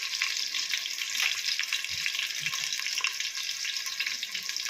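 Coriander leaves being rinsed under a running kitchen tap while making chicken curry with bagara rice, a steady hissing water flow with small splashes and handling noises, close and continuous with no talking.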